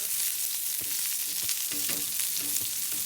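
Pancetta crisping in olive oil alongside cauliflower and broccoli in a pan for an omelette gives a steady, close sizzle with a few scraping stirs, and no one speaks.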